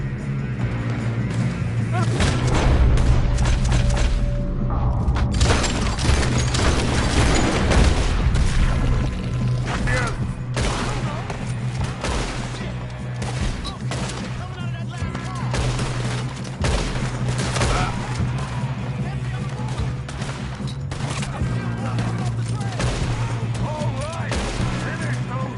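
Heavy volleys of gunfire in the video game Red Dead Redemption 2 crack and boom over a steady low drone, shots stacking into a sustained fusillade while voices talk over the fighting.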